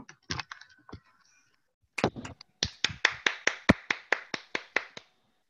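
Finger snaps offered as applause, a loose flurry of sharp clicks followed by a steady run of about a dozen crisp, evenly spaced snaps, close and fairly loud with no talk over them.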